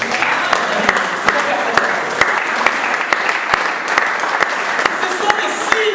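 A church congregation claps in a fast, steady rhythm, the sharp claps loud and even for several seconds with a crowd murmur underneath.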